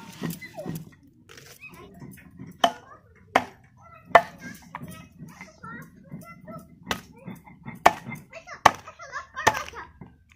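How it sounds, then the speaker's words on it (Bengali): Onions being chopped with a knife outdoors during a winter picnic, sharp irregular chopping knocks spread across the clip, with a dog and faint voices in the background. "পিঁয়াজ কেটে নেব।"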